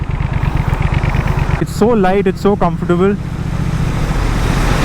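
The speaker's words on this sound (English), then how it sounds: "I'm riding a 1200cc bike." Triumph Speed Twin 1200cc motorcycle with twin exhausts, ridden on the road: a steady low engine drone runs throughout, and someone talks over it partway through.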